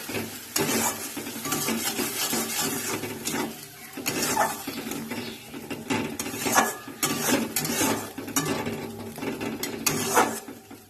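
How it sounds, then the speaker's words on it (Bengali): A paste of coriander leaves, chilli, ginger, garlic and tomato sizzles in a pan while a utensil stirs and scrapes against the metal in repeated close strokes, with no talking. "এই পেস্টটা দিয়ে দিলাম এবার এটা একটু কষে নিক"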